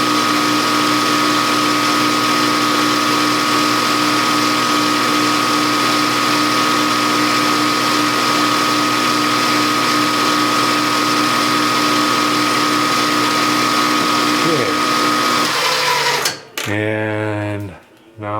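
Drill press boring into a carburetor main body on a machinist's setup, a steady loud mechanical whir running continuously for about fifteen seconds before spinning down, then a brief quieter tail of handling noise.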